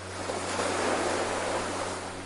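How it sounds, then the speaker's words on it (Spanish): Gentle ocean waves break on a beach and wash back, a steady, soft roar of surf with no distinct crashes and no voices. "Escucha cómo se rompen suavemente contra la playa y cómo el agua se retira con suavidad."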